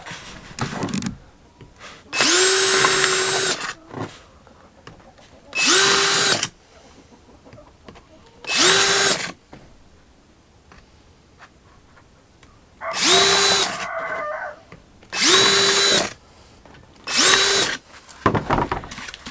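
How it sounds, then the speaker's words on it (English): A power drill bores rainwater holes through the bottom of a dried birdhouse gourd for a purple martin house, seven loud whining bursts of a few seconds each separated by short pauses, with no talking. "Now in the bottom I'm going to drill the rainwater holes."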